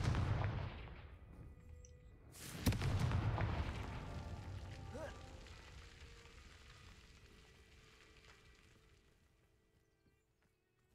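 A Confringo blasting spell goes off in Hogwarts Legacy, a sudden loud boom at about two and a half seconds over a noisy game backdrop, its rumble and debris trailing off slowly over several seconds.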